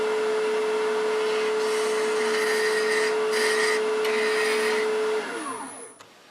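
A wooden chess knight spins on a woodturning lathe while being sanded: a steady motor whine with a gritty abrasive hiss running continuously, then the lathe winds down and fades out near the end.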